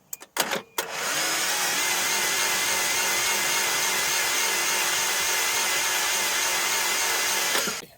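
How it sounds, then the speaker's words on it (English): Starter motor cranking a 1983 Toyota 22R engine that sat for over 20 years, running on a new ground cable: a few quick clicks, then a loud, sustained whirring churn for about seven seconds before it stops. "this one makes that starter really come to life"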